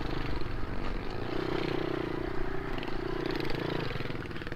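A mini motorbike engine drones steadily throughout, its buzzing hum holding close and even with slight rises in pitch.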